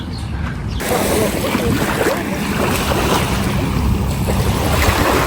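Sea waves wash onto a beach at a Hurghada resort in Egypt, a loud, continuous rush of surf and breaking water heard close by, steady throughout and mixed with some wind noise.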